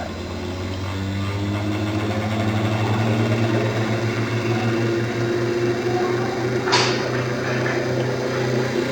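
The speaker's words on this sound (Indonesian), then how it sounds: "Kecepatan motornya semakin berkurang." Inverter-driven electric motor slowing down in a DC-AC converter bench setup, a steady tonal hum with stacked harmonics that drifts gradually lower over several seconds, continuous and close, with a brief click near the end.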